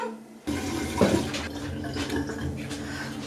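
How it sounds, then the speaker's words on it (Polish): Lukewarm water gushing steadily from a tap over small bread rolls in a kitchen, a continuous splashing pour that swells briefly before settling into an even stream. "namaczamy bułki w wodzie, najlepiej letniej"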